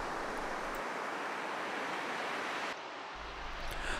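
Atlantic surf rolls steadily onto a long sandy beach at Conil in Andalusia, Spain, a continuous broad wash of breaking waves with some wind noise and no voices.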